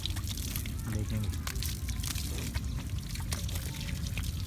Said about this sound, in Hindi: तो ये बछड़ों के अभी नहला रहे हैं